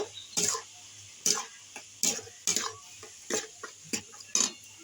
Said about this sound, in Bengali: আমি সব গুড়টা এভাবে দিয়ে দেবো দিয়ে এইভাবে আমি নাড়তে থাকবো